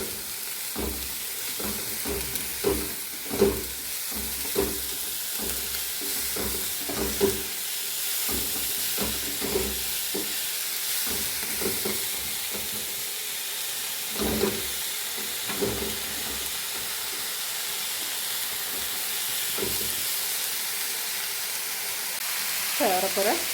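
Snake gourd thoran is stirred in a pan, with a soft steady sizzle and repeated spatula scrapes and knocks at an irregular rhythm, close up.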